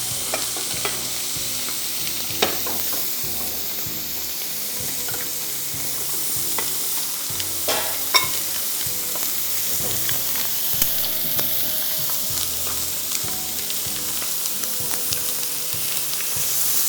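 Chicken for dajaj mashwi cooks in a frying pan over a low flame, giving a steady close sizzle broken by frequent scraping and stirring clicks, with no voices.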